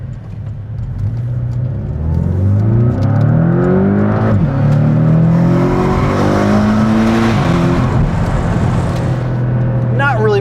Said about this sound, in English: I think it's mostly just engine behind us in the same space.